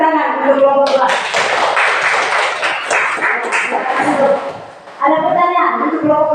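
A classroom group claps together after a group presentation, a dense burst of applause that fades briefly near the end before voices and clapping pick up again.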